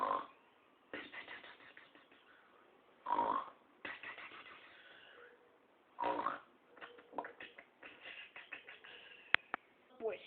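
A human voice imitates a rattly, carcass-like snore in three strong, rasping bursts about three seconds apart, each followed by a lighter sputtering tail, close and fairly faint overall.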